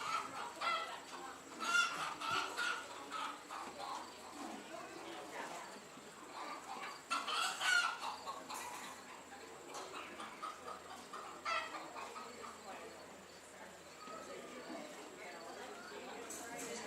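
Cockerels cluck and crow at a 4-H county fair poultry show, a busy mix of bird calls heard steadily under an announcer's voice and crowd chatter.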